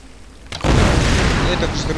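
An explosion goes off in the Tomb Raider video game as a sudden loud blast, followed by a dense, roaring rumble that carries on to the end, with a voice faintly present.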